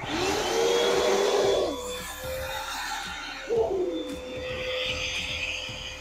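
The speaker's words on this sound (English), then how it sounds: "go ahead and suck it out with a vacuum" A vacuum sucks debris out of a freshly tapped thread hole on a jet ski, giving a loud steady whoosh with a thin whine. It stops briefly and then starts again.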